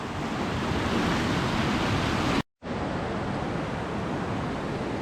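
A fast-flowing river in wild Scottish landscape rushes in a constant broad roar, loud and steady, broken only by a brief cut to silence midway before resuming unchanged.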